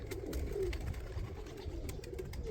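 Young pigeons in a loft coo softly in low, rolling calls, a few near and faint, over a quiet steady background with no one speaking.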